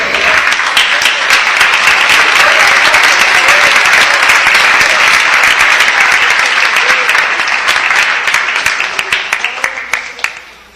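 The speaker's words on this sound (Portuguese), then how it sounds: "alegrar no Senhor com as palmas bem forte" A church congregation claps loudly and steadily in sustained applause at close range, tapering off toward the end with a few scattered claps.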